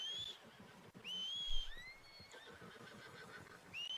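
In Red Dead Redemption 2, a horse called during a heavy snowstorm gives several clear, bright whinnies and whistle-like calls over a low rumbling background, with no talking.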